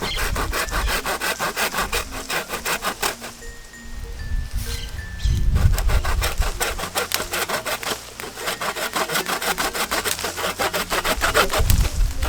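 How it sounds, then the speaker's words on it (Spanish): A hand saw cuts through a lemon tree branch at an air layer outdoors, steady rhythmic rasping back-and-forth strokes, loud and close, with a brief pause partway through. "Ahora lo que vamos a realizar es que vamos a sacarlos con la ayuda de un serrucho."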